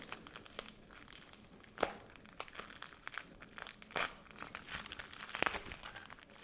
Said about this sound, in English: So I can just cut it open like that,